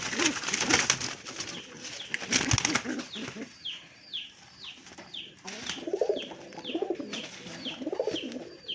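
A red bar male pigeon gives a loud, repeated cooing call close by, with bursts of wing flapping and rustling in the first half and rhythmic throaty coos carrying through the rest.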